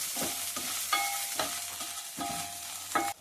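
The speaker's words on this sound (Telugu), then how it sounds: "మనం మిరపకాయలు కొంచెం వేగిన తర్వాత ఇందులోనే ఒక రెండు స్పూన్లు సాల్ట్ వేసి వేయించుకోవాలి" Dried red chillies fry with salt in a pan, a steady close sizzle broken by rhythmic scraping strokes of a spoon stirring about every half second, with no talking.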